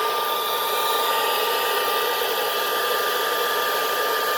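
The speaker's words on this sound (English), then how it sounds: "Does this hairdryer not get hot enough?" A hair dryer blows not very hot air with a steady, loud whooshing hum and a thin whine, running continuously without any voices.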